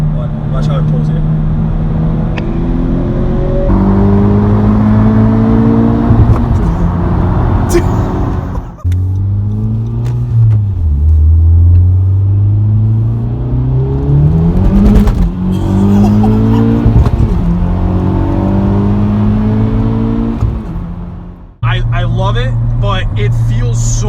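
A 2018 Honda Civic Type R making over 300 horsepower accelerates hard, its engine note climbing steadily through rising revs, dropping at gear changes, and building again. The engine is loud and close, and people talk over it.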